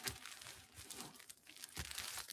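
A wrapper or piece of packaging is handled close by, giving irregular bursts of crinkling and crackling rustle over a couple of seconds, fairly quiet, with no voice.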